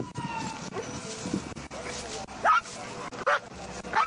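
A dog barks and whimpers during an Arkansas State Police traffic stop on New Year's Eve, with several short yips and whines that stand out over voices talking nearby.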